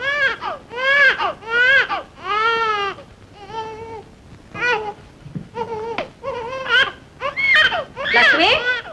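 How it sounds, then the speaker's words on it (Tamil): An infant cries loudly and close by in a classic Tamil film scene, giving repeated wailing bursts with short pauses between them and rising, strained cries toward the end. "குழந்தை அழுதுகிட்டு இருக்கு."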